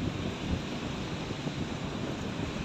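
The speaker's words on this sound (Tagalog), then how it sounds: "Laki ng mga alon, no?" Large ocean waves washing and churning steadily under buffeting wind noise on the microphone, a continuous close roar with no pauses and no voices.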